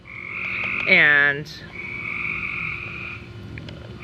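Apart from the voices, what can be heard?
frogs croaking in the bushes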